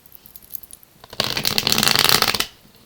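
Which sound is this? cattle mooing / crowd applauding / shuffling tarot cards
shuffling tarot cards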